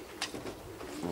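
Racing pigeons arriving at a club loft in Toruń after a young-bird race, with a few soft coos and bird calls over a close, noisy outdoor background.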